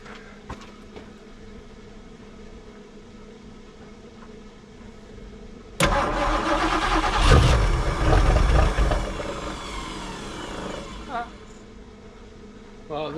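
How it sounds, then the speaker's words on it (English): A 1974 Mercury Comet with a no-start fault cranks under battery power, then suddenly catches and fires, a loud rough burst of engine noise that swells and falls before fading back to a low hum. "That's the first time it's fired, so that's a good thing."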